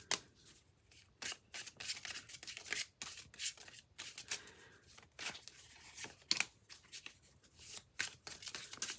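Tarot cards being shuffled by hand, a series of quick riffling bursts and soft slaps with brief pauses between, close and fairly quiet.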